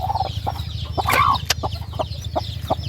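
A brooding hen gives soft, repeated clucks close by, with other fowl calls mixed in over a low steady hum; no one speaks.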